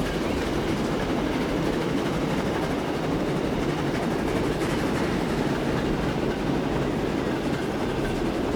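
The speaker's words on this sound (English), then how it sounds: "This train does enter the station a little bit faster than I would expect it to" A train runs on rails in the Transport Fever 2 video game, a steady, loud rumble with rapid clickety-clack and rolling noise across the whole stretch and no talk.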